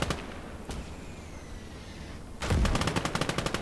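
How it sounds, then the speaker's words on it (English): Gates of Hell battle with rapid bursts of gunfire and explosions, a sharp early crack, then a dense rattling volley near the end, loud and close. "That's my mortars shooting at him and killing me."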